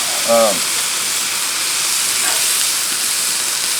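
Oiled onions sizzle on a Blackstone griddle with a loud, even, continuous hiss close by, and a brief voice sound near the start.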